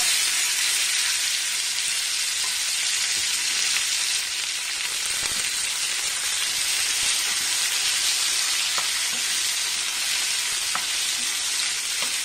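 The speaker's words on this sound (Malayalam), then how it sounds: "ഇനി ഇതിനകത്തേക്ക് നമുക്ക് മാങ്ങ ഇട്ട് കൊടുക്കാം. ഈ മാങ്ങ ഇട്ട് നമുക്കതൊന്ന് ഫ്രൈ ആക്കിയെടുക്കണേ, അരിഞ്ഞു വെച്ച മാങ്ങയെ." Chopped raw mango sizzles hard in hot coconut oil, a dense, even frying hiss that runs loud and unbroken throughout with a few faint clicks from the pan.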